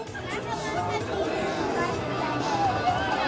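A large crowd at Six Flags Fiesta Texas in October chatters in a steady, dense babble, many voices blending with no single speaker standing out.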